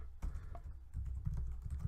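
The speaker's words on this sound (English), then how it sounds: "Don't judge me for my typing experience." Fingers typing on a computer keyboard in quick irregular bursts of soft clicks, close and fairly quiet, with no talk over it.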